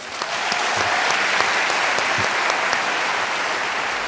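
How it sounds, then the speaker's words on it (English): Sustained applause from a live audience at a State of World Jewry Address, a dense, steady wash of clapping that fills the whole stretch at a near, even level without pause. "one more big round of applause for Dan Senor, please."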